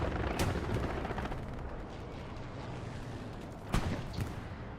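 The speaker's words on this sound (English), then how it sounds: "Something's shooting from behind. I guess it's the heavy tank. Could have been artillery falling as well." Heavy tank cannon or falling artillery in the WWII shooter Hell Let Loose: a steady battlefield rumble broken by two sharp, loud booms, one near the start and one near the end, with no talking.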